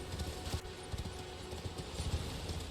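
Faint, steady hoofbeats of a horse clip-clop through a video game's soundscape, a quiet ongoing trot with no pauses.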